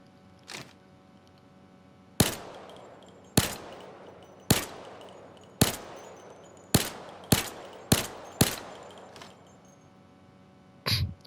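A Micro Uzi submachine gun in Payday 2 fires a string of single sharp shots at uneven intervals. Each crack is loud and close with a short decaying tail, and there is a faint hum between the shots.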